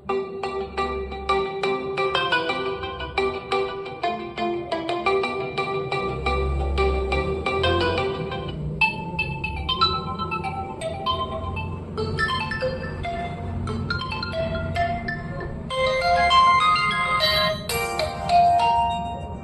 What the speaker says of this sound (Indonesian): Kita coba buka untuk memainkan ringtone bawaannya.